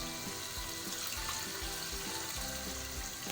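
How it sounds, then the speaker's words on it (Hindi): Water poured into fried masala in a pot while cooking beef white biryani, a steady splashing pour running throughout, close and fairly loud, with no talk over it. "अब हम इसमें ऐड कर देंगे पानी"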